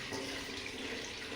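Tap water runs in a steady, even rush while hot water is drawn to bathe a street puppy, continuous and moderately close with no other sounds.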